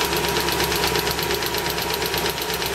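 A BMW E30 318i idles with a fast, even tapping from the cylinder head riding over the engine's steady whirring hum, loud and close throughout with no talk.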